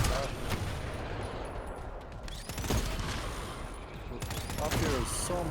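SMG gunfire in the co-op shooter GTFO, rapid bursts of shots and impacts over steady game ambience, with players talking over the action.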